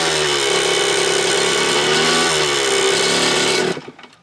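A KX100 two-stroke dirt bike engine revs with a loud, buzzy, high-pitched whine that holds steady for several seconds and then cuts off abruptly.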